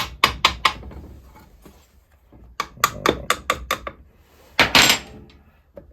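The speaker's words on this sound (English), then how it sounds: "So let's give it some tappy taps and see what happens." A hammer taps on a part of a John Deere chainsaw. Sharp metallic knocks come in irregular bursts of a few quick hits with pauses between, close and fairly loud.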